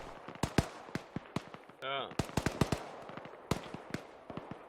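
Sharp gunshots crack in the video game Arma 3, a dense run of loud, irregular reports with some distant echoing shots and a brief whooshing sweep midway, as sniper fire comes in under occasional talk.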